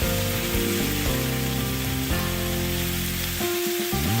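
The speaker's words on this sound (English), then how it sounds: "our fish is already whitening and cooking through very nicely" Fish frying in a pan for a Caribbean-style dish, a steady dense sizzle running loud and close throughout, with faint tonal hum underneath and no talking.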